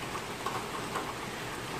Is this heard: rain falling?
yes